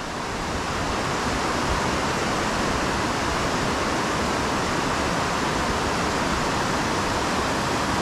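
A steady, loud rush of water pours without a break at High Falls, a dense, even roar with no voices.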